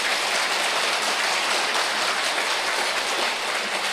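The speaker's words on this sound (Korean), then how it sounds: "박수로 보내주시겠습니다" Audience applause at a redevelopment briefing session for the Goejeong 5 district in Busan: dense, continuous clapping from a crowded room, a uniform loud wash that holds steady without any speech on top.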